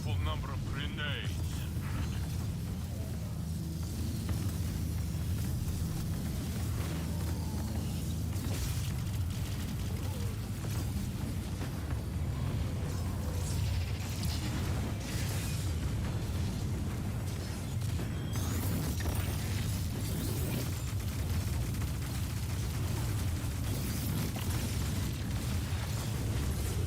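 Grenade explosions in a video game: repeated deep booms and bursts rumble under a continuous spoken voice, with a dense low-end roar of detonations and mechanical clatter throughout, the blasts often masked by the talk.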